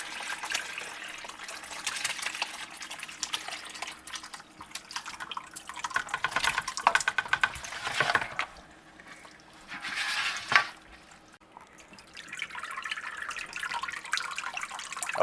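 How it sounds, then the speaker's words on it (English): Venison broth poured out into a cheesecloth-lined colander set in a large bowl, a sustained close wash of splashing, dripping liquid that swells and eases, with a couple of brief metallic knocks; no talking. "I've lined a colander with cheesecloth and placed it inside of a large bowl. And what we're going to do is just dump everything in there"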